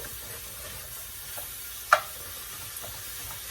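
Food browns in a pan during an Asian cooking class, giving a soft, steady sizzle throughout with one brief sharp clink partway through.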